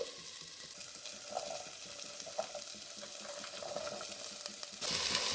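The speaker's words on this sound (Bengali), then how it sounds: "নেড়ে চেড়ে দিচ্ছি যাতে পুড়ে না যায়। এবার আলু আর গাজর অ্যাড করে দিচ্ছি।" Potatoes and carrots fry in a pan for a mixed vegetable dish with grated coconut, a soft steady sizzle broken by a few scrapes of stirring, and a brief rush of water or steam near the end.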